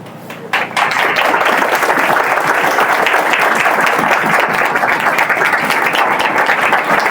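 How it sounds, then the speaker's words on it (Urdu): A standing church congregation claps together to welcome the word of God during an evangelist's sermon, starting abruptly and swelling into close, loud, sustained rapid applause. "کھڑے ہو کر خدا کے کلام کے لیے، تعظیم کے لیے تالیاں بجا کر اس کے کلام کو ویلکم کریں گے"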